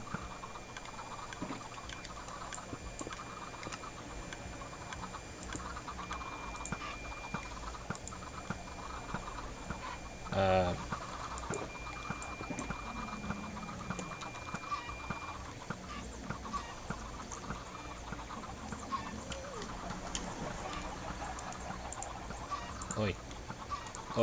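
Many Minecraft chickens cluck and chatter in a busy flock, with scattered clucks throughout and a louder burst near the middle, over a low steady background.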